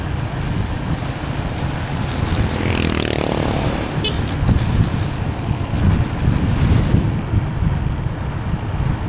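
A new motorcycle ridden gently during its break-in period on a road, steady engine drone buried under heavy wind buffeting on the microphone, with no talking.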